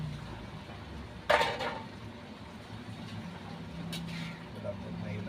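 A cooking pot of jackfruit stew in coconut milk is stirred once, giving a short, close clatter of a spoon against the pot early on. A steady low hum runs beneath it, and lighter clinks follow later.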